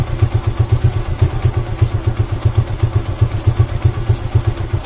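A motorcycle engine idles at low RPM as the idle is turned down, a steady rhythmic low thumping with mechanical clatter, close and loud throughout.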